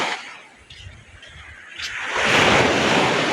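Rough sea swells break on a gloomy overcast day, the roar quieter at first, then rising into a loud, close, hissing crash of surf.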